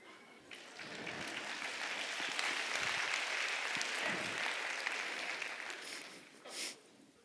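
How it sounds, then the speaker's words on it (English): An audience at a lecture on animal minds breaks into applause, many hands clapping in a sustained, fairly distant wash that swells and then fades, with a brief louder burst near the end. "I hope you're clapping because you disagree with that statement."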